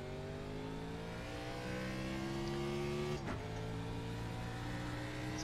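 A race car's engine drones loudly and steadily at the end of pit road, its pitch climbing gently, with one sharp break partway through as the tone shifts.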